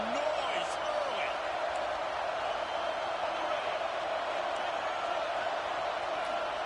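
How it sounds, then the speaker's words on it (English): Big stadium crowd at a South Carolina vs Tennessee football game, a steady, dense roar of cheering and noise that holds level throughout, distant and enveloping. "This crowd bringing the energy and noise early."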